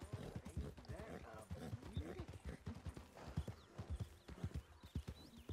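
Steady rhythmic hoofbeats of a horse galloping in Red Dead Redemption 2, thudding close and even throughout, with faint game ambience behind.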